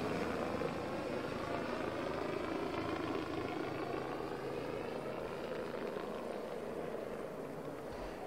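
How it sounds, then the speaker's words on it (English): A helicopter hovers overhead at a New Year's Eve celebration as skydivers prepare to jump, its rotor producing a loud, steady, unbroken drone that fills the whole stretch with no voices. "the helicopter is still hovering above us"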